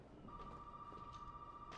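Telephone ringing inside the horror game Resident Evil 7: Biohazard, a faint steady electronic ring tone held continuously under low game ambience for almost two seconds.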